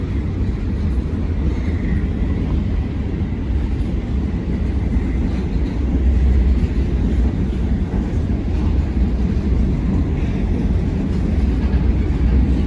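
A long freight train on a bridge rumbles continuously as it starts up and moves, a heavy low, steady roll that stays loud and near throughout without talk.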